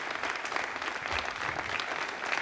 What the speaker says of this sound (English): There's the final good news and a lot of applause.